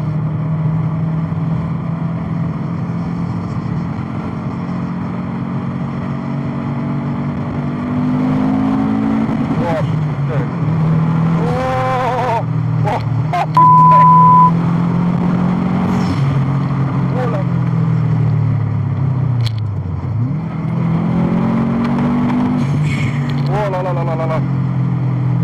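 Subaru Impreza WRX with an STI engine driven in a lightly sporty way on open roads, its engine droning steadily with rises and dips in pitch through the run, while a voice talks over it now and then.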